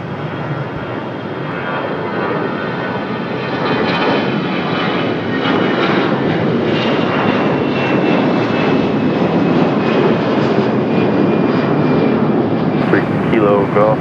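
An American Airlines Airbus A321 departs Raleigh-Durham airport for Charlotte, a loud broadband jet roar swelling steadily and staying close, with faint radio chatter beneath.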